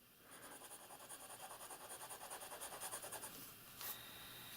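TWSBI ECO fountain pen nib scribbling on paper, a faint, fairly rough rhythmic scratching of quick back-and-forth strokes, close and alone, ending with a brief small knock.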